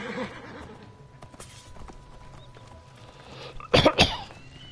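A horse in the video game Assassin's Creed Origins whinnies loudly near the end, a shaky rising-falling neigh, after quieter snorts and hoof clops against a low background hum.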